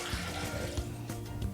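Water pours steadily into a Thermomix bowl already holding milk, a continuous close splashing rush with a few small bumps and clinks, and no one speaking.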